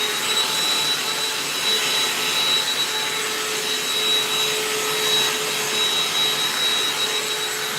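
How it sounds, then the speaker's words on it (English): A vacuum cleaner runs steadily while cleaning a small area of a home kitchen, making a continuous loud whining drone with a high pitched tone and no talking for about eight seconds. "Let me just really quick vacuum this little area here."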